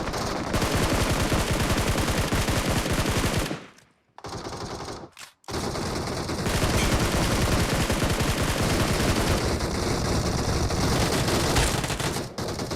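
Dense, near-continuous automatic gunfire in a battle royale video game, loud and close, with rapid bursts that drop out briefly twice before resuming just as heavily.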